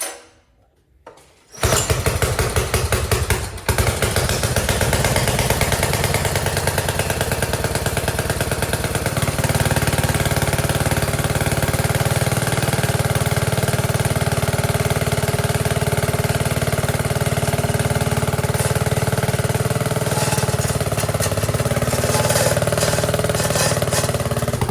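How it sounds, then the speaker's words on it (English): A Wheel Horse tractor's Tecumseh engine catches after a brief start and then runs loud and steady nearby, a rough continuous mechanical drone with no talking. "That is kind of the cool part though about these Tecumseh engines, is that they have electric and pull start options."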